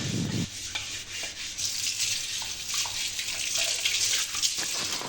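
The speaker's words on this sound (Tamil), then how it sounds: "அரிசி மாவு இருக்குது பாருங்கள் அதை வச்சு ஃபஸ்ட்டு தேய்ச்சி எடுத்துக்கலாம் அதனால் தேய்ச்சிட்டு நம்ம வந்து அலசிக்கலாம்" Wet scrubbing of a new clay pot with rice flour, then rinsing under running water: steady splashing water with short rubbing strokes throughout, fairly close and alone.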